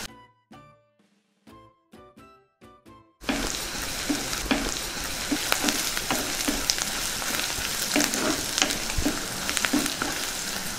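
Curry leaves and turmeric frying in a pan for cauliflower tomato curry: a few short tapping clinks, then a loud steady sizzle with spoon scrapes of stirring on top.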